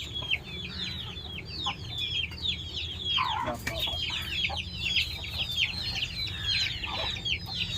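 Chickens in a coop during the rainy season cluck continuously in a busy, overlapping chorus of short calls, close and moderately loud, over a low background hum.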